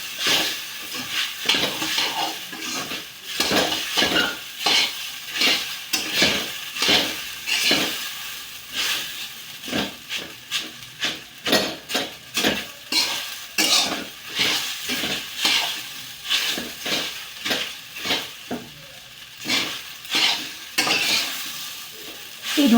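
Sabudana with roasted peanut powder fries in a pan for upvas khichdi, stirred with repeated rhythmic scraping strokes over a soft, constant sizzle, close and fairly loud.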